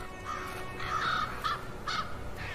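Ravens in winter in the far north giving several hoarse caws in a loose series, moderately near over a quiet background, with no talk.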